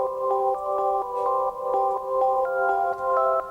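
BL Secret Sign bell preset from the Lush pack chimes a repeating pattern of clear, ringing tones in a gentle pulse, upfront and alone without any talking.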